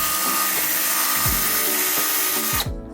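A power sander works on interior trim with a loud, continuous whine that sweeps up and down in pitch as it is pressed and eased, then cuts off abruptly near the end.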